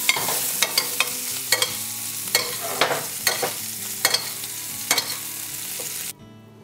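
Butter, garlic and a sprig of thyme sizzle in a pan alongside lamb, a steady frying hiss punctuated by regular sharp clinks and scrapes of a utensil, stopping abruptly near the end.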